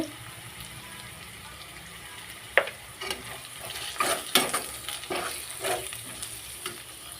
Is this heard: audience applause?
no